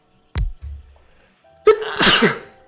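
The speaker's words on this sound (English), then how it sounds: "I gotta sneeze." A single sneeze from a man, a short sharp inhale followed by a loud explosive burst close to the microphone, with quiet around it.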